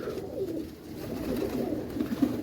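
Teddy pigeons kept at home coo in low, soft repeated calls, close by and continuous over faint background noise.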